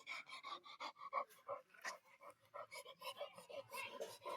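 A dog pants quickly and rhythmically up close, soft breathy bursts repeating steadily with no other sounds, heard at a low level.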